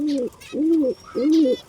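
Yellow tail mark pigeons coo nearby in three rounded, throaty calls, each about half a second long, spaced evenly with brief pauses, faint chirps and rustling in the background.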